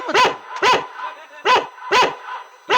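A dog gives loud, close, evenly spaced barks, five in under three seconds, each sharp and clipped, in a Tikota comic stage play.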